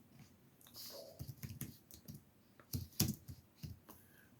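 Quick bursts of computer keyboard typing, close and fairly quiet, with irregular clusters of key clicks and short pauses between them.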